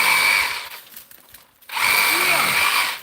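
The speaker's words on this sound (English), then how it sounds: "It's just Hosh's sawzall." A reciprocating saw buzzes loudly and close in two bursts with a short pause between them, a harsh steady rasp as it cuts.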